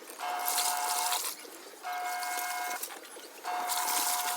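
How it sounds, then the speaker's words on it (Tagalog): Water rushes into a washing machine to rinse laundry in three loud surges, each carrying a faint whine and separated by short quieter gaps. "babanlawan muna natin sa tubig para lumambot yung dumi"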